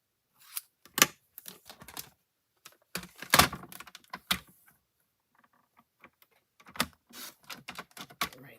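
Paper card is trimmed for a handmade birthday wallet gift card, a quiet close series of short crisp cuts and snips with pauses between them and no talk.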